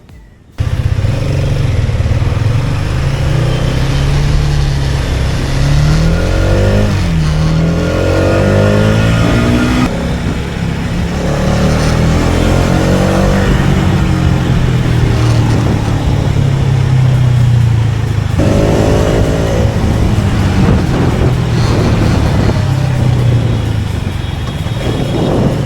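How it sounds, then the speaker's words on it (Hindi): An Xtreme 250R motorcycle pulls away repeatedly in city riding, its engine note rising in several loud acceleration sweeps over a constant close-up buzzing drone. "Did you heard that? A buzzing sound."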